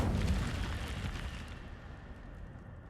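Incendio fire spell cast in the video game Hogwarts Legacy: a loud, deep burst of roaring flame that hits at once and then fades into a rumbling tail over a few seconds.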